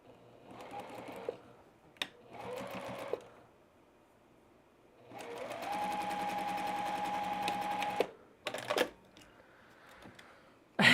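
A fully mechanical Juki sewing machine stitching a quilt block, close and moderately loud, running in two short bursts, then one steady run of about three seconds, then a few brief stitches, with no talking.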